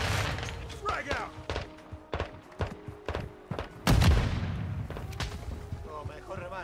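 Frag grenade blast in a video game, a loud booming detonation near the middle of a string of scattered sharp gunshots and thuds, with a fading rumble afterward.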